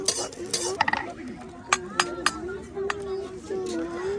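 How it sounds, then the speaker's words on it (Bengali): Spices fry in oil while someone stirs them, with a low sizzle under sharp clicks and scrapes of a utensil against the pan, near and moderately quiet, with some background voices. "দেখুন সবকিছু আপনার তেলে ভেজে নেওয়া হচ্ছে।"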